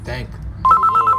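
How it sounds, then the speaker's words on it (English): A telephone rings with a repeating electronic trill that starts partway through and pulses steadily, loud and close, right after a stretch of people talking. "I'm not answering the phone."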